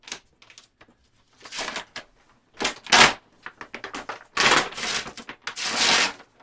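Packing tape handled while unboxing a Gaylord Archival package, sharp crinkling rips and crackles in irregular bursts separated by near silence, close up.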